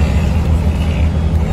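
A Fiat Uno, nicknamed the Uno Camaro, rumbles with a loud, steady low engine drone heard close up, with no one talking over it.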